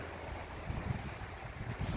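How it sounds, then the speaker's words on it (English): Wind buffets the microphone on a hiking trail near Duck Lake in Yellowstone, a steady low rumbling roar with brief gusts and no voices. "Can you hear the wind?"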